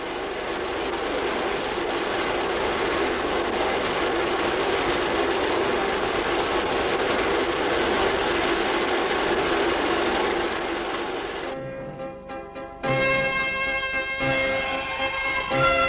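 Hydraulic force exciters fed by an oil pump station during aircraft strength testing make a loud, steady mechanical roar, which drops away and then returns as a harsher tonal whine with pulsing harmonics.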